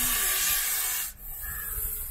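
A highly venomous snake found at an ancient temple gives a harsh hissing warning, a loud breathy hiss that cuts off abruptly after about a second, then a quieter rustling follows.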